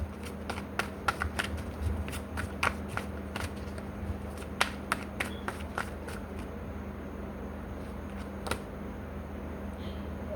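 Tarot card deck being shuffled by hand: a steady run of crisp, close riffling snaps and slaps over a faint low hum, with no talk.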